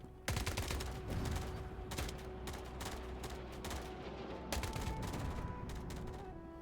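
In the War Alert video game, mortar impacts and gunfire crackle in rapid, dense volleys with sharp repeated shots and low thuds, steady and continuous throughout with no talking over it.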